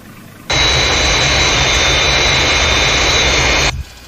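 Fireflash jet airliner engines roar on runway approach in the Thunderbirds series, a loud, steady, broadband jet rush starting abruptly and holding for about three seconds before cutting off.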